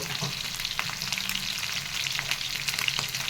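Sliced onions frying in a pan: a dense, steady crackling sizzle with scattered sharp pops throughout, close up and fairly loud, with no talking.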